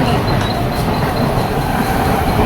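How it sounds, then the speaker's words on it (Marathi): A local train pulling into a station platform, with a loud, continuous rumble and rattling of wheels on track and a faint high squeal above, heard close and steady with no speech. "ट्रेन आलेली"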